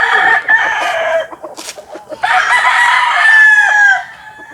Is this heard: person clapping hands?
no